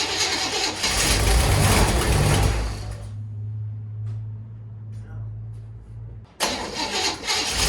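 A 1963 Chevy Impala engine cranks loudly and roughly, drops to a low steady hum for a few seconds, then bursts back into loud cranking.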